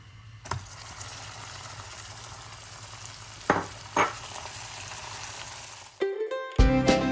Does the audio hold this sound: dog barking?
no